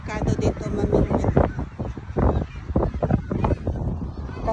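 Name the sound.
strong wind on a cliff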